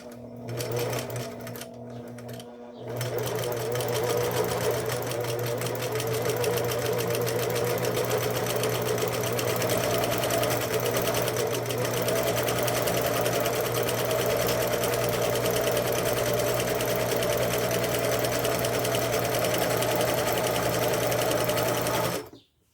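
A Singer Facilita sewing machine stitches fabric in a fast, continuous mechanical whir that runs for about twenty seconds after a brief start, then stops abruptly.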